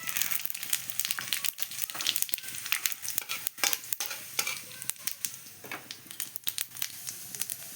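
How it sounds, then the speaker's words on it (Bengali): Whole cinnamon, cardamom and dried chillies crackle and sizzle in hot oil while being stirred. A dense, steady frying hiss carries sharp pops and scraping throughout, with no voices. "এখানে আমি এখন সম্বাদ দেবো, যেটা আমি বলেছি যে দারচিনি, এলাচ, শুকনো লঙ্কা এগুলো আছে,"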